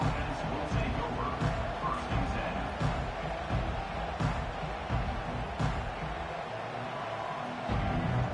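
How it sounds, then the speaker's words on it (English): A large video game football stadium crowd roars steadily throughout, with an announcer's voice talking over the noise. "This crowd bringing the energy and noise early."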